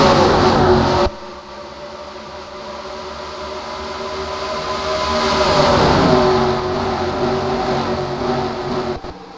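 Race cars roar past off turn two at Charlotte during a 600-mile stock car race, a loud sustained engine rush that swells and shifts pitch as the pack passes, with no talk over it.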